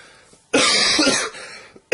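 A loud, harsh cough close up, one long rasping burst, then the start of another right after a short pause.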